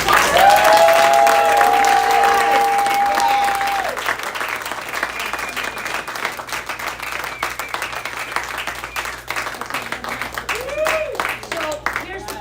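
Sustained audience applause for a theatre ensemble, loud and dense at first, then thinning to a steadier, softer clapping, with a whistle early on and scattered cheers near the end.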